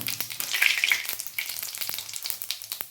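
Whole cumin seeds and asafoetida crackle and spit in hot oil for a vegetarian dish, a steady close sizzle with sharp little pops scattered through it.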